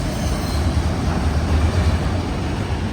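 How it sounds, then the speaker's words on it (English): A CSX M217 auto rack freight train heading south on the Henderson Subdivision at Morton Gap, Kentucky, rolls past close by with a loud, continuous low rumble and steady wheel noise that holds throughout. "M217 auto rack train, southbound on the CSX Henderson Subdivision in Morton Gap, Kentucky"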